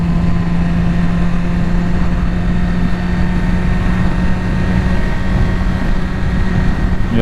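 A Yamaha R6 sport motorcycle engine drones steadily while riding, a continuous loud hum with strong wind rush throughout and no speech.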